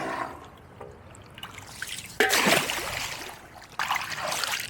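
Water splashes and gushes from a garden hose filling a pond, in uneven bursts, starting quietly then surging louder, close by.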